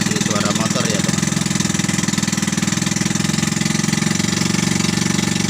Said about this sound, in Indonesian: Nah ini suaranya masih suara motor ya teman-teman.